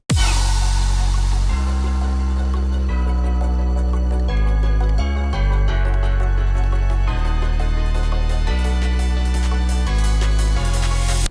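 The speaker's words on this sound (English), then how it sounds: "a pulse wave lead as well as the Toho sound font church bell" Chiptune bridge layering plucky chords, a pulse-wave lead, a Toho sound-font church bell and Sega Genesis sound-font chords over a sub bass, a dense, loud, steady electronic arrangement with chord changes every second or so, no voices.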